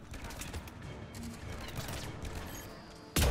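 Rapid gunfire in the video game Mass Effect 3 crackles in a dense, continuous burst, ending with a sudden loud thump.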